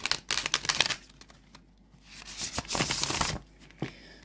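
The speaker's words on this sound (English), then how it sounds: "They have a lovely shuffle." Tarot cards riffled and shuffled close up, quick crisp flutters in bursts with short pauses between, no talking.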